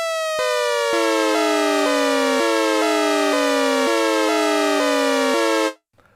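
Sequential Take 5 synthesizer playing a bright, buzzy sawtooth-like tone whose pitch steps and ramps in a layered, stair-like pattern from three LFOs, loud and alone before cutting off abruptly.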